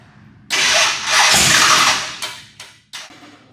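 A big Hemi engine cranks and catches with a loud roar, then sputters and revs in a couple of short bursts, close and powerful.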